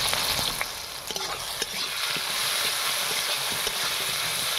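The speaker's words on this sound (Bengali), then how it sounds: "ভালো করে কষিয়ে নিতে হবে।" Ginger garlic paste with turmeric, chili and cumin powders sautéed in a pan for a fish curry, a dense close sizzle with scattered light scraping and ticking from stirring.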